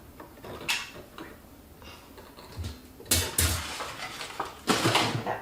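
An Always Pan steamer colander is handled on its own, with a series of light metallic clinks and clatters, a few of them sharper and louder bursts, close up.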